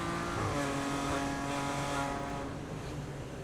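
Big BMW touring cars race in the 24 Hours of Zolder endurance event, their engines a steady, sustained drone at mid distance with no break and no voices.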